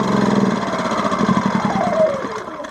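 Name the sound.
petrol generator engine ticking over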